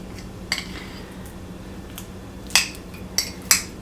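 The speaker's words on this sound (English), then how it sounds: "I want to smash that garlic up and get it sort of incorporated with the butter a little bit better" Garlic being smashed and mashed into butter with a utensil on a dish for steak and cheese sliders: a few sharp clinks and taps at scattered moments over a low steady hum, no talk.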